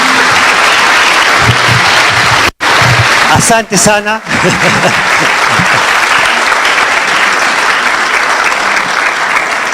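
A crowd at a business forum applauds the chief guests with loud continuous clapping. A brief spoken phrase cuts through partway, then the applause carries on at full strength to the end.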